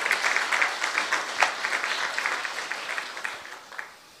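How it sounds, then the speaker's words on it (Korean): Congregation in a church claps warmly during an early-morning prayer service, continuous applause that slowly thins and fades out at the end. "다시 귀한 우리 사역자들을 위해서 큰 박수로 다시 한번"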